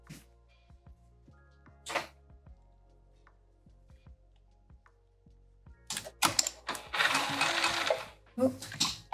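A sewing machine stitches cotton cord onto the edge of a headband, with faint ticks leading into a louder, buzzy run of stitching and a few short bursts near the end.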